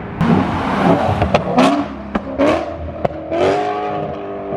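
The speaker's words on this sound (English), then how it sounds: "Oh my God, the downshift sounds sick." A BMW E92 M3's loud aftermarket exhaust roars through quick downshifts, with sharp revving blips and pops rising and falling in close succession, loud and near.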